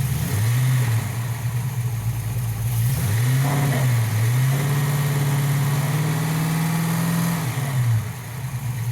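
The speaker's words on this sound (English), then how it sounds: "I'm barely revving." A Mustang engine with very low fuel pressure, about two psi, idles roughly and revs up several times in short, uneven bursts, its pitch rising and dipping, close and loud with no talking.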